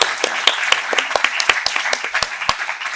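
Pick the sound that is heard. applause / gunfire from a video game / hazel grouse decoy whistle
applause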